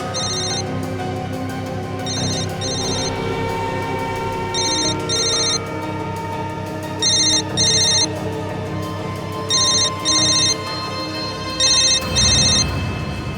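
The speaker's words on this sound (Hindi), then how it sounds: "किसका फोन है?" A telephone rings in repeated double bursts of a bright electronic trill, evenly spaced about every two and a half seconds, over a low background hum, the later rings louder and closer.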